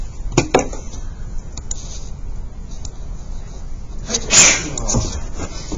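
A single sharp sneeze rings out midway, preceded by a few faint clicks and knocks against a quiet background.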